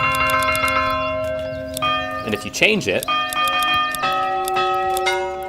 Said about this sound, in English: you can change the church bell sound